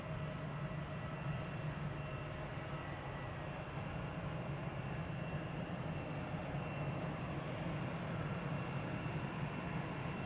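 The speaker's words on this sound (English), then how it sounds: "This is EasyJet A320 to Bristol, flight 22922." An EasyJet Airbus A320 jet at Amsterdam Schiphol gives off a steady, distant engine roar, a continuous low rumble that holds level the whole time with no voices.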